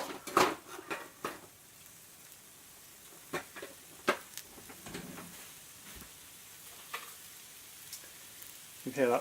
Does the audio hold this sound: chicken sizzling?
yes